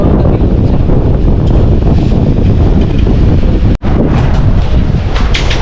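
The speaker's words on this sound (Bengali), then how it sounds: "বাতাসটা অনেক বেশি তো" Strong, steady wind roars across the microphone on the beach at Cox's Bazar, buffeting it continuously, with a brief dropout near the end and no voices.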